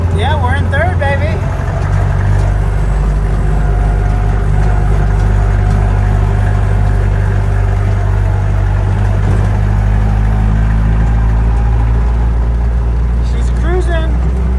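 The engine of a 1958 Jeep DJ-3A Dispatcher, without an exhaust system, drones loud and steady while driving in third gear, with a voice speaking briefly at the start and near the end.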